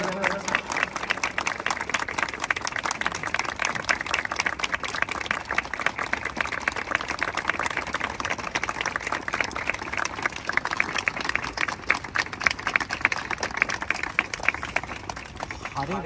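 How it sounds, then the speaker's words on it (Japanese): An audience at a stage event gives a big round of applause, dense sustained clapping that carries on steadily throughout with voices mixed in. "みんなに大きな拍手をお願いします"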